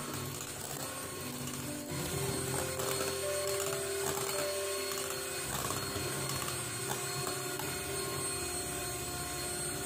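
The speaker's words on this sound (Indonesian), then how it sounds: "Ini di mixer sampai pucat dan mengental." Electric mixer beating brownie batter of eggs and sugar until pale and thick, a steady, loud whirring motor drone with a faint rattling of beaters against the bowl, running unbroken and close.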